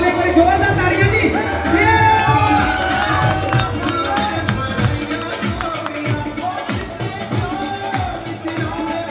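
Wedding guests cheer and clap in a loud, dense crowd roar with whoops and shouts, voices mixed through the din and fading slightly toward the end.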